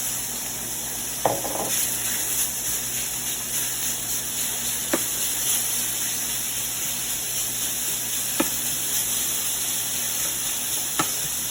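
Meat sizzles in a stir-fry pan alongside pushed-aside vegetables, a continuous close frying hiss broken by a few sharp clicks and taps from stirring utensils, with no talking.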